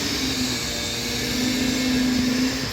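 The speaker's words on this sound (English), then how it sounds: "Giving it all a final clean with the flat disc, just to get it real nice and" An angle grinder fitted with a flap disc cleans metal ahead of welding, a loud steady whine with a droning tone that holds for the whole stretch, close and with no talking.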